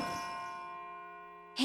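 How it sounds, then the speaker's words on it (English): A single bright bell strike in Persona 3 FES rings out and slowly decays with a long shimmering tail, followed by a sudden noisy burst at the end. "It sounds like a bell, but where's it coming from?"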